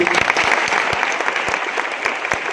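An audience at a career guidance event in Malkapur claps in a steady, dense burst of applause with sharp individual claps standing out, loud and close.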